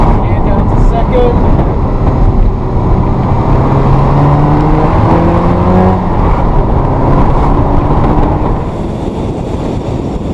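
A Ferrari 348 engine drones loud and close from inside the car as it is shifted down to second gear, with a broad mechanical roar and shifting tones under wind noise.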